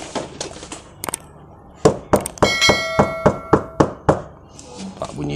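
Knocks on a Honda City 2020 car door fitted with one soundproofing layer, a run of sharp, fairly loud knocks in an uneven rhythm close up, with some ringing after the later ones.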